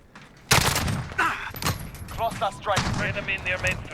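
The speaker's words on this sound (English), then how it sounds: "So this is the Colt 9mm SMG, the Commando 9mm" Colt 9mm Commando SMG, also called an AR-9, firing in Call of Duty Modern Warfare: several sharp broadband shots spaced irregularly across the clip, loud and close, with voice-like sounds mixed between them.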